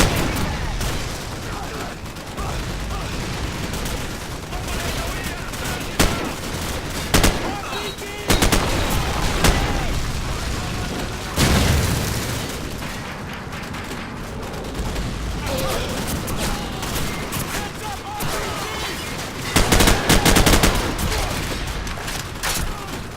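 Gunfire in the video game Call of Duty 4, loud bursts of automatic and single shots with booms spread across a firefight, punctuated by shouted soldier callouts.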